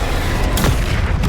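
Confringo fire blast spell striking in Hogwarts Legacy combat, a sharp, loud burst with a brief crackling tail, cutting through a steady rumbling fight ambience.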